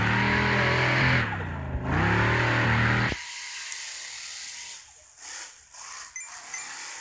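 Hot rod engine in the Hill Climb Racing mobile game revs loudly for about three seconds, its pitch dipping and climbing again, then cuts off, leaving quieter game sounds.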